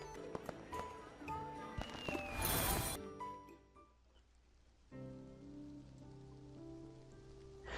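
Sudden rain downpour in the game Love & DeepSpace during a lakeside stroll, a burst of dense hissing rain swelling around the middle over soft music and tonal chimes, then easing into steadier patter.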